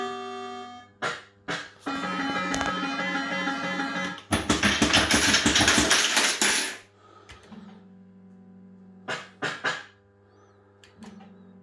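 JPM Fruit Chaser fruit machine: electronic beeps and jingles, bursts of rapid clattering reel and payout noise, then sparse chiming tones, loud and close with no talking.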